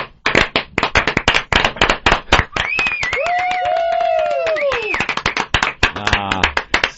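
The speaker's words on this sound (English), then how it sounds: "Slow clap" Sharp, separate claps ring out close by on a comedy radio show, with laughing voices and a whistle-like tone mixed over them.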